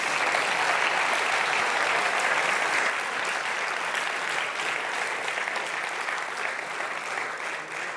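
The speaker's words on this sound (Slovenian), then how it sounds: "En aplavz za vse vas." Audience applause at a closing ceremony for the POPRI 2024 event, a steady dense wash of many hands clapping for the full duration, loud at first and easing slightly toward the end.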